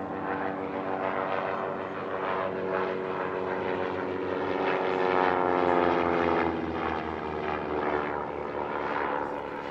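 A propeller-driven light attack aircraft, ex-Portuguese Air Force, drones loudly at an airshow at Paris-Villaroche, its engine tone rising and shifting steadily as it passes, with no pause.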